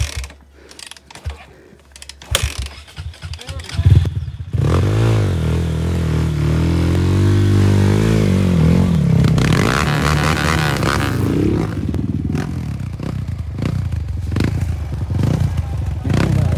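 A hard enduro dirt bike out on a hiking trail: several sharp clattering kicks at the start, then the engine catches and runs at a loud, steady drone with rising and falling revs, close by.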